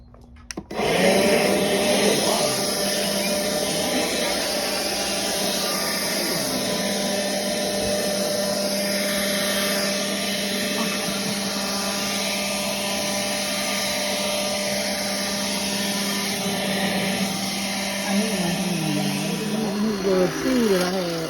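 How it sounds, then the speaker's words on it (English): Leaf blower running outdoors to blow off a porch, a loud steady whining roar that starts abruptly and holds for about twenty seconds with slight pitch shifts, a voice speaking briefly over it. "let's go blow the porch off"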